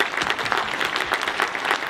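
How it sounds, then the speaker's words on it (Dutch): Short burst of audience applause at an award ceremony at a comic festival in Breda, full and dense clapping from a crowd, fairly close and continuous. "Dankjewel, nog een applaus voor Joeri."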